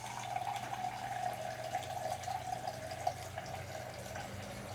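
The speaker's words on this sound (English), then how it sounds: "just pulled it off the gas tank and let it drain" Gasoline trickles steadily from the fuel tank of an MTD 8hp wood chipper into a cup, a continuous faint liquid drip and pour with no talking.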